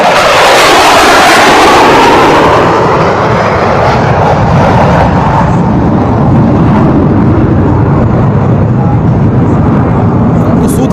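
Two Su-30 MKI fighter jets fly past low over a highway airstrip near Barmer, a loud roaring jet rush that peaks early, then fades into a sustained rumble over about eleven seconds.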